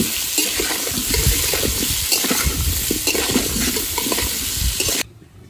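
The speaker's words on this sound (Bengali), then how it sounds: "মাংস রান্না করার জন্য প্রথম আলুগুলো ভেজে নেব।" Potatoes frying in mustard oil in a pan give a loud, dense, continuous close sizzle with bubbling crackle that cuts off abruptly near the end, with no voices.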